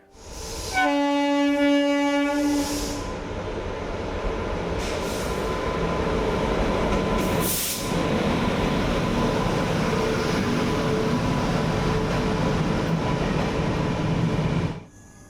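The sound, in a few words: trains arriving and departing at station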